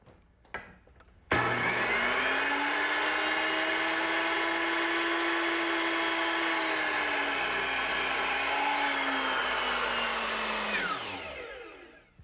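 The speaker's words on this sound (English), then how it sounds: "Now I'll cut it to the correct length." A power tool whines loudly and steadily for about ten seconds, its pitch dipping slightly under load before spinning down, like a saw cutting through wood.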